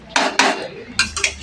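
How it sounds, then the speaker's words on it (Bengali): Mutton being stir-fried in a pot gets four quick, close metallic scrapes and clinks of a spoon against the vessel. "এই যে মটন কষানো চলছে এখন"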